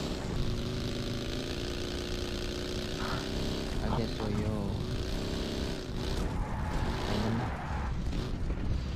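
Motorcycle engine in the battle royale game PUBG Mobile, a continuous harmonic drone that rises and falls in pitch as it revs, loud and close, with someone briefly talking over it.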